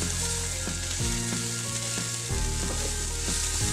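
Paneer bhurji masala with turmeric and red chili fries steadily in a pan, giving a dense, continuous sizzle, with a few soft stirring knocks along the way and no voices.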